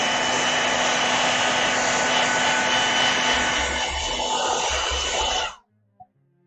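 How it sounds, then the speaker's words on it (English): A hair dryer blows steadily and loudly for about five seconds while acrylic paint dries, then cuts off abruptly, followed by a single faint click in the quiet. "I'm gonna get my hairdryer out again real quick."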